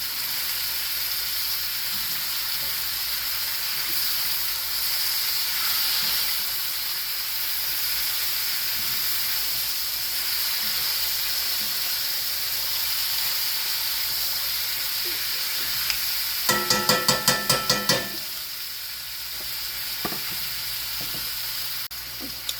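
Pot roast cooks in a pan with a steady, fairly quiet sizzle and hiss. A brief burst of rattling clicks comes near the end.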